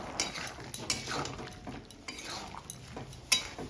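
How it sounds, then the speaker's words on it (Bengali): Metal pot lid lifted off a cooking pot of jackfruit curry, several close clinks and scrapes of metal against metal with faint stirring noise between them. "এবার আমি ঢাকনা খুলে দেখে নেব আমার এঁচোড় সেদ্ধ হয়েছে কিনা।"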